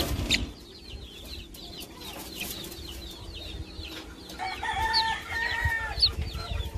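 Young chickens, a rooster-like cockerel among them, clucking and chirping in a close, fairly quiet farmyard, with short repeated calls growing busier toward the end and no one talking.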